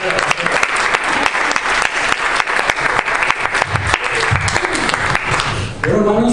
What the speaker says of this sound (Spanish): Un aplauso para la pastora aquí.